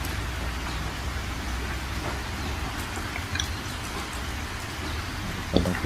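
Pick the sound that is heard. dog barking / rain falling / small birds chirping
rain falling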